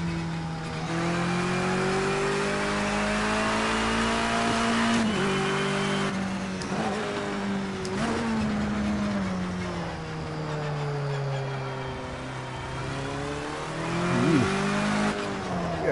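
Race car engine in Project Cars 2 on PS4 at a Silverstone classic event, droning steadily with rising and falling revs through gear changes, briefly squealing tires, alone and fairly loud throughout.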